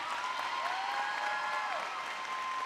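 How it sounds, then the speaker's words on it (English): Graduation audience gives a round of applause for a discus competitor, soft even clapping from a distant crowd under a faint tonal whine, continuous through the short stretch. "wanted to give her a round of applause for that awesome accomplishment"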